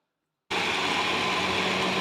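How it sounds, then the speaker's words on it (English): A kitchen blender starts abruptly and runs at a steady high whir, blending butter chicken gravy; the motor noise is loud and continuous after a moment of silence. "Okay, let's blend."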